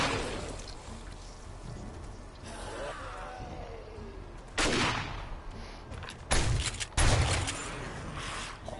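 Gunfire in the survival game 7 Days to Die: several loud, abrupt shots spaced a second or two apart, the last pair close together, over quiet ambient game sound.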